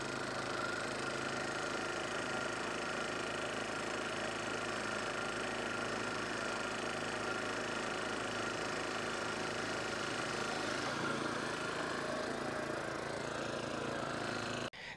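A lawn mower engine runs steadily while cutting stripes into a Bermudagrass lawn, a loud continuous drone that holds even throughout and cuts off abruptly at the very end.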